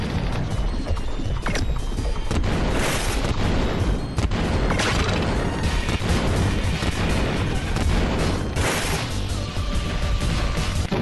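Continuous loud weapon fire and booming explosions from the Nintendo DS game Super Control Mecha MG, a dense unbroken barrage with sharp blasts standing out.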